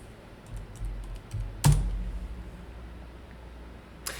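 Computer keyboard keys tapped in a few quick light clicks, then a louder clack and a last click after a pause, close and alone, entering stock tickers in a trading room.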